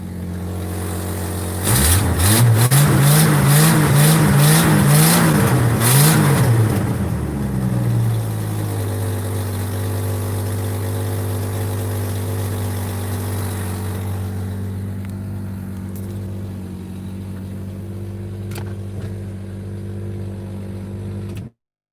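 A 1970s car engine starts and revs hard several times in quick bursts, then settles into a steady, rough idle that runs on for a while.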